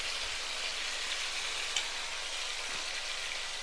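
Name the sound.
large fish frying in hot oil in a pan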